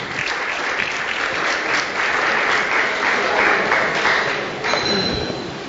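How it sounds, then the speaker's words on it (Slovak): An audience at a public discussion event in Bratislava applauds guests, a dense, even wash of clapping that continues steadily from start to finish with no speech. "Môžete im dať potlesk, aby o sebe vedeli"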